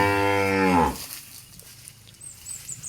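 Cow lowing loudly and close for about a second, a deep drawn-out moo that cuts off and leaves quiet outdoor ambience with faint bird chirps.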